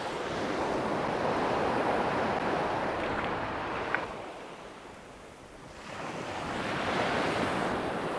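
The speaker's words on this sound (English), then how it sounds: "God, that wind's a bit nasty." Strong wind buffeting the microphone on the Bristol Channel shore at Minehead, with surf washing in behind; a loud continuous roar that swells, dips briefly midway, then rises again, with no talking.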